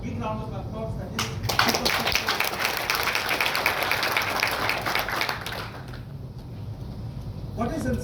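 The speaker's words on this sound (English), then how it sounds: "A big round of applause." A crowd at a product launch event breaks into applause, a burst of clapping swelling after a moment and then fading, with a voice speaking over the sound.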